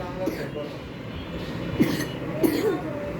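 A child coughs in short bursts, a couple of sharp coughs standing out over steady room noise and faint background voices.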